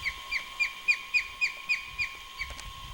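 An osprey on a river shoreline in Alaska gives a steady series of about ten short, evenly spaced chirps. The calls are clear and moderately loud over a faint steady hum and low background rumble.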